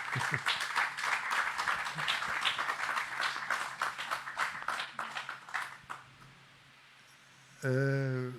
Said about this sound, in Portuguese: Uma salva de palmas já agora